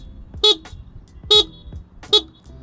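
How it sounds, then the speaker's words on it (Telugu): Horn of an Ultraviolette F77 Mach 2 electric motorcycle blares in three short, loud, evenly spaced beeps, close up, with nothing else heard between them. "నార్మల్ హార్న్ ఇస్తున్నారు, బట్ లౌడ్గా ఉందన్నమాట ఇది."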